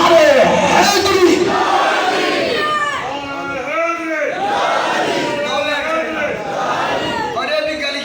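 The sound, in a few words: crowd chanting the slogan Naara-e-Haidari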